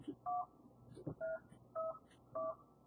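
Four short, even telephone keypad tones beep in turn as a voicemail password is entered on a Mitel phone system, with soft clicks between them, quiet and close with no voices.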